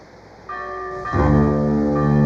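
A bell on a vault rings loud and close as the wind swings it. Sustained tolling tones stack up and hang in the air with no voices.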